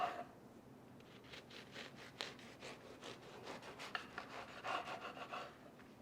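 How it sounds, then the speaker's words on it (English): A knife saws back and forth through a loaf of bread, cutting thick one-inch slices for French toast. The rasping strokes repeat in a steady rhythm, close and fairly quiet, with no talking. "just continue cutting those slices until you're done with the loaf"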